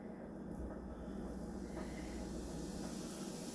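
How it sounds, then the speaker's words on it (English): Hamburger patties sizzle on a griddle as a steady, faint broadband hiss that holds even and unbroken throughout, with no voices. "Oh, listen to them things simmer."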